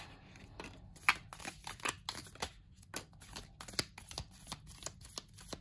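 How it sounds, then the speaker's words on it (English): A deck of oracle cards is side shuffled up close and quietly, giving a series of crisp riffling snaps and flicks in an uneven rhythm, with no talk. "The only way you can really get a good shuffle is with the side shuffle, right?"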